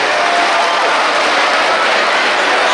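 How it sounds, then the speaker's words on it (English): A large high school assembly audience claps hands together in a dense, loud, continuous wash of applause with crowd noise, close and filling the room throughout. "Clap your hands."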